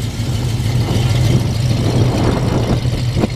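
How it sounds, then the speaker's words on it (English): A 1970 Plymouth Barracuda convertible engine idles with a deep, steady rumble from its dual exhaust, loud and close, with no talking. "Walk around the back to a nice dual exhaust"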